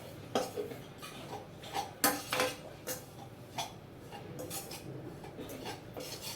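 Ragi flour roasting in a pan, stirred with a utensil that scrapes and clinks against the metal in irregular strokes, close and moderately loud.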